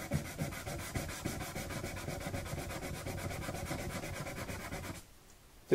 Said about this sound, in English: I'm going to take my sandpaper, come back in and do this again.